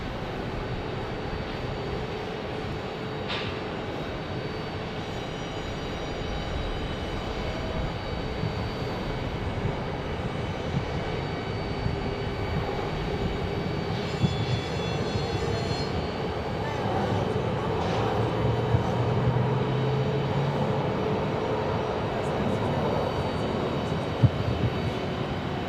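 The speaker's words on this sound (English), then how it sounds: "Again, this is A321neo from Philadelphia." An Airbus A321neo airliner from Philadelphia moves at Phoenix Airport, giving a steady, moderate jet rumble with faint tonal whine and a few small clicks, while a voice talks briefly over it.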